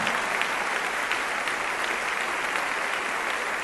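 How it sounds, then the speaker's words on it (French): Steady, dense applause from a church congregation gathered for an event in La Colina, Bogotá, a continuous wash of many hands clapping at even loudness with no voices over it. "Un fort applaudissement pour ces frères."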